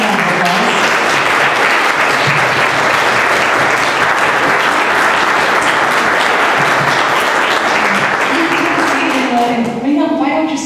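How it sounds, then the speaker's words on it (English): An audience at a panel talk on Greek culture breaks into sustained, dense applause, loud and steady throughout, fading slightly as a voice starts at the end. "Please give them a round of applause."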